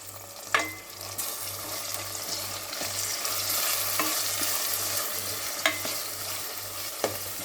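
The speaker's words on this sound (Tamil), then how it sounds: "இப்போது தக்காளி நல்லா வதங்கணும்." Chopped medium tomatoes sautéing in an oil-filled pan at a roadside parotta and salna stall, a steady broad sizzle with occasional scraping stirs and utensil knocks, with a low steady hum beneath throughout.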